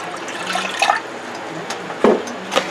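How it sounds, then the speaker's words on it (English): Three-quarters of a cup of water poured for no-cook strawberry freezer jam, brief splashy pours and trickles at moderate volume, heard alone in a kitchen. "So we're going to be using 3/4 cup of water,"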